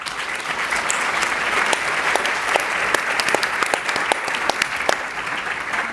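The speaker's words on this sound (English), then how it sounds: "can I ask for a big round of applause to our panelists?" A large conference audience applauds the panelists at the close of a market outlook session at EU Agri-Food Days 2025. The clapping is loud, dense and sustained for the whole stretch, with no voices.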